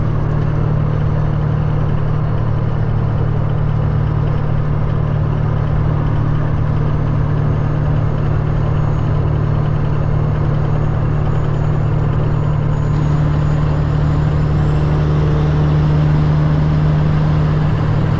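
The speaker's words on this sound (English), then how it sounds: "Truck sounds so nice" A straight-piped Peterbilt truck with a 315-inch wheelbase rumbles at a steady low drone from inside the cab, the deep engine note constant throughout with a faint rising whine near the end.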